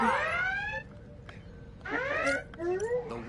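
Warbling alarm tones wail on a starship bridge in Star Trek Bridge Crew, rising and falling in bursts with short gaps between, fairly loud over a low rumble.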